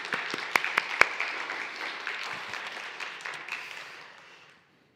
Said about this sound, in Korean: 다시 한번 박수로 감사드립니다.